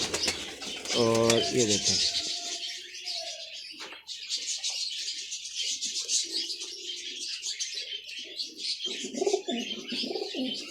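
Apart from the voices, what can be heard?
pigeons cooing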